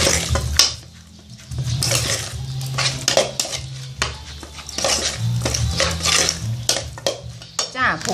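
A spoon clatters and scrapes in a bowl while stirring catfish larb mixture after makrut lime is squeezed in, a steady run of close clinks and scrapes.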